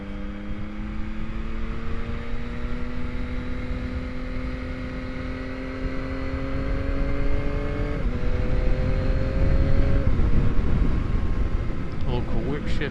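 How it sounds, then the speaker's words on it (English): A 2021 Yamaha MT-09 motorcycle accelerates hard using its quick shifter. The engine drone climbs steadily, then drops abruptly at two quick upshifts and climbs again, growing louder toward the end over a rough, wind-buffeted background. "So that was probably as slow as I'd be accelerating and using the quick shifter at the same time."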